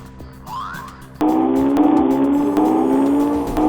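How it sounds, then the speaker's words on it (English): Nissan R35 GT-R launches hard on launch control: after a quiet, low idle with faint squeaks, the engine abruptly bursts into a loud, steady roar as revs climb through the pull, heard from outside. "one piece of gadgetry that really makes the GTR stand out is its new launch control"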